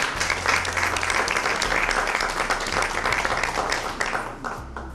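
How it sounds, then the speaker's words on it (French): An audience applauds a guest being introduced, a full, steady burst of many hands clapping with a low hum underneath, tapering slightly toward the close. "sous vos applaudissements."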